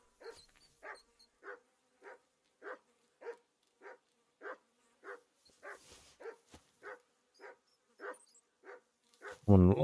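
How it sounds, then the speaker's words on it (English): A dog barks in a game world. About twenty evenly spaced, short, moderately loud barks repeat for several seconds, with a louder burst of sound at the very end. "Oh, my dog's back."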